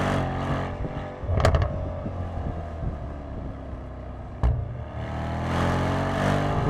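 A Mercedes-AMG GT63S engine hums steadily from inside the cabin, with a muffled low drone, brief sharp bursts of noise around a couple of moments, and wind rumble underneath.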